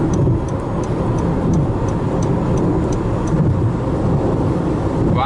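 A 2013 Honda Fit EV accelerating on a freeway in sport mode, heard from inside the cabin as a steady, loud road and tire rumble with a faint electric whine and light ticking, no voices.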